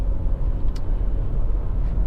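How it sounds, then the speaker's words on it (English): A Honda Accord 2.4 i-VTEC EX saloon rolls over road bumps, giving a steady low rumble with faint muffled thumps from the suspension inside the cabin, with no talking. "You hear it going over the bumps like that"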